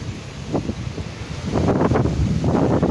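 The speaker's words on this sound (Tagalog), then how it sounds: "Lakas ng hangin at lakas din ng dagat." Strong seaside wind buffets the microphone in heavy rumbling gusts, growing louder halfway through, with a faint wash of rough surf beneath.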